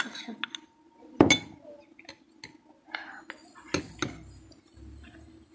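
A spoon stirs cornflour into mango pudding mixture in a glass bowl, giving a few sharp clinks against the glass, with one loud knock and quieter taps and rustles between them.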